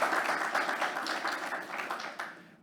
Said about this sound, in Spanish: agradecemos su presencia con un fuerte aplauso